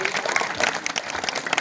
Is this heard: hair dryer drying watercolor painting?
no